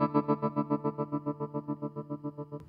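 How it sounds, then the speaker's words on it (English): Electric guitar chord throbbing through an EarthQuaker Devices Night Wire tremolo pedal, volume pulsing rapidly and evenly about six times a second, ending with a small click. "that's where you get the most standard tremolo sound"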